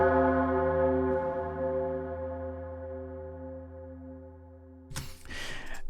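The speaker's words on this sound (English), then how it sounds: "So here is my tubular bell at the end." A low tubular bell, pitched down an octave in a church documentary score, strikes once and rings with a long, slowly fading resonance, followed near the end by a brief rush of noisy sound.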